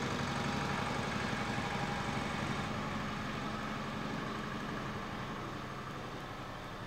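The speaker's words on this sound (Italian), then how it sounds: "Sì, è un trattore." A tractor passes by outdoors, its engine a loud, steady broadband rumble that fills the whole stretch and eases off only slightly toward the end, with no talk over it.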